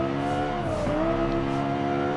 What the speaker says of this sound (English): it's definitely by far the best sounding car on the inside, that's for damn sure